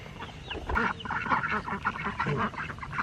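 Ducks quacking and honking in a noisy, steady chorus close by, with overlapping calls throughout and no clear speech.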